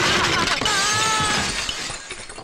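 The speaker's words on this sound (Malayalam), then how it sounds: "എന്റെ വണ്ടിയുടെ ചില്ല് പൊട്ടിച്ചല്ലേ?" Car window glass shatters loudly in a dramatic film scene, a sharp burst of breaking glass followed by tinkling fragments that fade over a couple of seconds.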